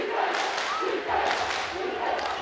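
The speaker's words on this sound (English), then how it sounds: "Now the Layton crowd trying to cheer on their D." Home crowd at a Layton high school boys basketball game against Davis cheering on its defense, a steady, broad roar of voices with shouts rising and falling throughout, loud and continuous in a gym.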